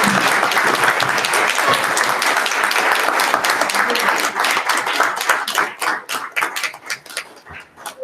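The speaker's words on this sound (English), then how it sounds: "Let's give these guys a round of applause" A school board meeting audience gives a loud round of applause, dense clapping that holds steady and then thins into scattered individual claps before fading out.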